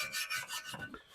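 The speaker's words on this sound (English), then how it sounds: "So I think we're just going to do the wire brush thing here and then the sandpaper thing." A brass wire brush scrubs rust off exhaust headers in quick, rhythmic rasping strokes, several back-and-forth passes, close but fairly quiet, with no talking.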